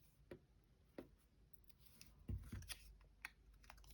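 Scissors make a few quiet snips through a paper strip for card making, short crisp cuts spaced across a few seconds with a faint soft clatter in between.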